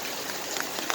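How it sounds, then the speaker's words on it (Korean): Heavy rain falls steadily in a dense, even hiss with a few louder drops spattering near the end, briefly and without voices. "빗방울이 강도가 세지고 있습니다."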